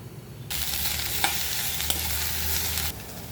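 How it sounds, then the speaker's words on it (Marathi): Chopped vegetables sauté in butter in a pan, a steady loud sizzle starting abruptly, with a couple of stirring clinks, then cutting off near the end. "तोपर्यंत आपण बटरमध्ये भाज्या परतून घेऊया."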